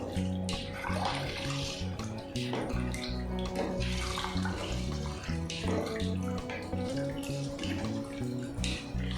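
Water pours steadily into a pan of chicken bones in masala for kappa biriyani, a continuous close splashing stream filling the whole stretch with no voices.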